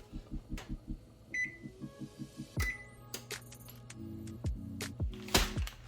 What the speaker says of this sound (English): let's preheat the oven so we can get our bread nice and toasty